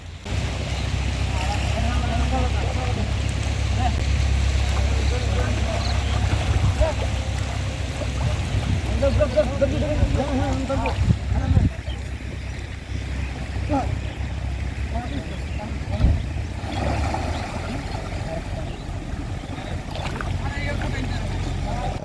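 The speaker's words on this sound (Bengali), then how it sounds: "পাশে যেই বড় ফিশিং ট্রলার রয়েছে সেটি আমাদের সহযোগিতা করছে" A large fishing trawler's engine drones steadily on the water near a river sandbar. A low, loud throb runs the whole time, with voices talking over it.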